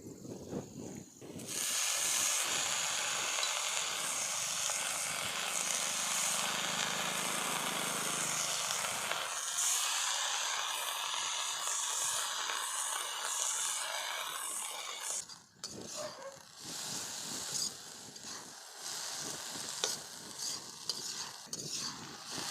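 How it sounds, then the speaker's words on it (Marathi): Drumstick flowers are sautéed with masala, salt and chili in a pan, a strong hissing sizzle for the first stretch, then quieter frying with repeated scraping stirs, close by. "आता मीठ मिरचीमध्ये परतू परतू घ्यायची"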